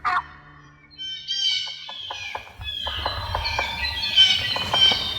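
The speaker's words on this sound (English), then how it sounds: "He gave a yelp on the hook's call and was answered with a gobbler." A single sharp yelp call, then a rapid rattling wild turkey gobble that rolls on for several seconds, somewhat distant, with faint birdsong in the background.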